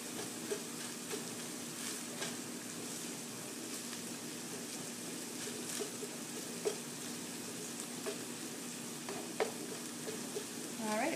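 Taco meat sizzles and fries in a pan with a steady close hiss, broken by occasional scraping clicks of stirring, all quite faint.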